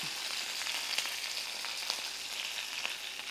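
Mustard seeds, cumin, curry leaves and garlic frying in hot ghee for a tempering, giving a steady close sizzle with scattered small pops and crackles throughout.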